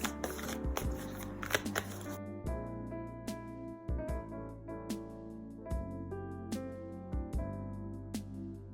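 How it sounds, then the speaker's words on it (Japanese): Oracle cards being shuffled and laid out during a tarot-style reading, giving a steady run of soft papery riffles and flicks over sustained background music, close and moderately loud, with no talking. "オラクルカードを出していきます。"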